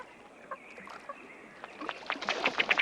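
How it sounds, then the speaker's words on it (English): A ruddy duck drake makes his courtship display call, a short burping hiccup that repeats in quick bursts, getting louder and faster toward the end amid faint marsh background. "The spunky little ruddy duck drake has one of the oddest. His display is sort of a burping hiccup."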